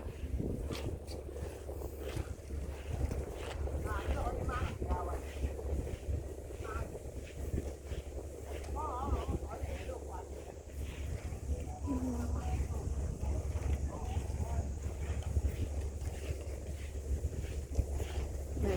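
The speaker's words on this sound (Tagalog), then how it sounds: "Mahangin guys" Strong wind buffets the microphone in a constant low roar, with faint voices and distant boat sounds underneath, walking back to Yat Tung Pier on Lantau Island, Hong Kong.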